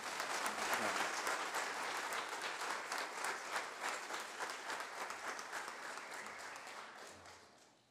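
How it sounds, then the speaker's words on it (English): A church congregation applauds its graduates during a Sunday morning service: a dense, continuous clapping that holds steady and then tapers off toward the end. "Let's give another round of applause this morning."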